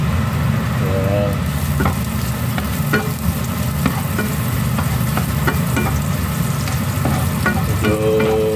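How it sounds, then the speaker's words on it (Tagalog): Garlic sizzles and fries steadily in a hot pan for Ilokano-style braised chicken with patola and misua, with light scraping and stirring clicks over a continuous near sizzle and no talking. "Medyo pag-brown lang natin itong bawang guys, para lumabas na yung kanyang aroma"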